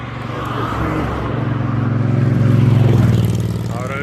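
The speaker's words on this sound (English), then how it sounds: "Traffic greets us here" Road traffic near Gariep Dam on the Orange River, with a vehicle engine droning and swelling as it passes close by, loud and steady, then fading slightly at the end.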